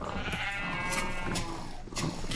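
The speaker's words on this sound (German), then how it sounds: "Das sind doch Wollschafe." Sheep in Minecraft bleat several times in quick succession, loud and close over a dense, busy game soundscape, with no talking.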